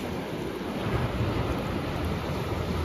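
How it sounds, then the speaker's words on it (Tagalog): Sea waves breaking on the beach at Saint-Malo in France, a steady loud roar of surf mixed with wind rumble buffeting the microphone, with no voices. "nakakawala talaga ng pagod ang hampas ng alon ng dagat"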